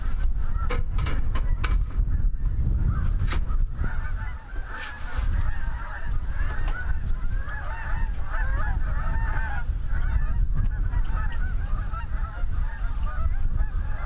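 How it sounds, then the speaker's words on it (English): Geese honk repeatedly while flying south over a Prince Edward Island homestead, a steady chorus of overlapping calls at moderate distance over a low rumbling outdoor background, with no speech. "although you can't see them, the geese are flying south in this segment"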